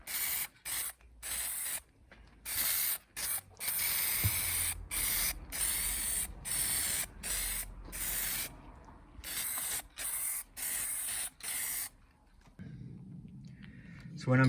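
Aerosol primer sprayed onto a Warhammer 40k-style grimdark train terrain model in a series of short hissing bursts with brief gaps, close and steady, ending in a quieter stretch of low handling noise.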